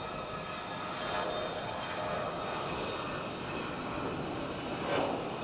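Jet airliners taking off at a civilian airport, heard as a steady, loud broadband engine roar that holds through the clip, rising slightly near the end, with no talk.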